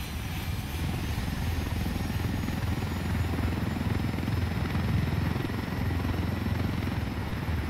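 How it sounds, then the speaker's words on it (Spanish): A helicopter in the video game Ghost Recon Wildlands gives off a steady, loud rotor drone and engine whine that goes on without a break throughout. "Entonces este es el segundo helicóptero que robamos."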